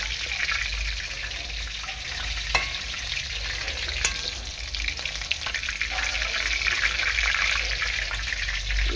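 Steady, loud sizzling of pakoras deep frying in hot oil, a continuous crackling hiss with occasional small pops.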